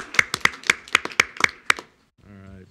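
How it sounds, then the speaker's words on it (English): A small group claps for Megan at a board of education meeting, about eight quick, crisp hand claps in a steady rhythm, then a brief pause before a low hum. "Let's give Megan a video clip of us applauding her"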